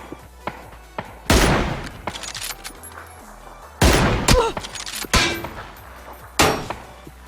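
Gunfire in PUBG, the online battle royale shooter: several loud, sharp shots arrive at irregular intervals, with quieter scattered pops and clacks between them.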